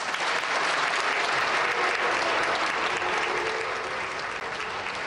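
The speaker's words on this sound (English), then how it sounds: "President Obama applauded by senior members of Congress at the end of this inaugural lunch" Senior members of Congress applaud President Obama at the end of the 2009 inaugural lunch, a steady, dense wash of clapping that holds at full strength for the whole stretch with no voices breaking through.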